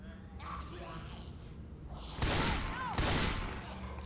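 Two sharp gunshot bursts in the video game Left 4 Dead 2 on a training map against a Smoker, loud and close about a second apart, over low game ambience.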